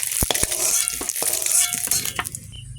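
Eggs frying in oil in a pan, a close, crackling sizzle broken by sharp spatula clinks and stirring knocks, fading quieter toward the end, no talk.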